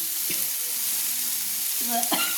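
Soybean chunks fry in a pan, giving a soft, even hiss throughout with a few brief stirring scrapes near the start and end, close by and moderately quiet.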